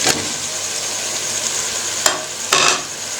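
Fried chicken and green chillies sizzle in biryani masala in a pan, a steady close frying hiss with a few sharp stirring scrapes.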